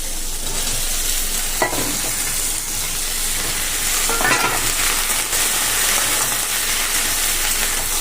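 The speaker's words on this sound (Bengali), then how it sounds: "এবার আমি ঢেঁড়সগুলো দিয়ে দেবো সব।" Okra sizzles loudly in hot oil with tomato and nigella seeds, a constant dense frying hiss under a few scraping stirs of a spatula, and nobody speaks.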